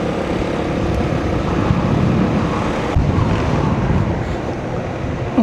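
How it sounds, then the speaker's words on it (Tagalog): Strong wind roars in a steady, broad rush, buffeting close to the microphone with no voices. "Malakas ng hangin, oh."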